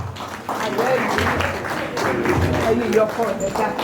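A round of applause from the audience at a 25th birthday celebration as someone is called up for the opening prayer, steady dense clapping for several seconds with voices mixed in underneath.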